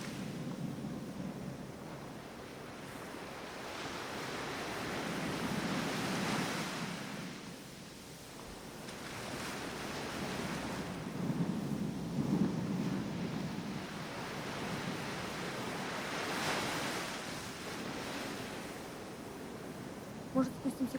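Sea waves roll onto the shore in slow, swelling surges under a steady wind, with faint voices now and then amid the surf.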